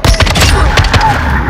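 Bursts of rapid gunfire in Call of Duty: Modern Warfare II, close and loud, a quick run of sharp cracks packed into a second and a half.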